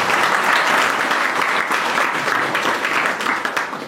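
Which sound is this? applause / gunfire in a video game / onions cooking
applause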